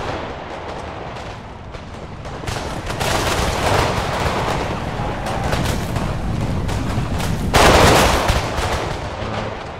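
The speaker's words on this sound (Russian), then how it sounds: "Это выстрел был залпом" Battle in the video game Napoleon: Total War, with musket volleys crackling and booming in dense overlapping bursts and rolling rumbles, loud throughout with the heaviest blasts near the end.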